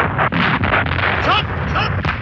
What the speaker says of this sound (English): the massed artillery opened fire.